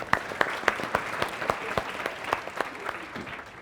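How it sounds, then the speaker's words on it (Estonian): A conference audience applauds in a hall, a few seconds of loosely rhythmic clapping with distinct individual claps standing out over a softer crowd patter. "tehke endale üks aplaus"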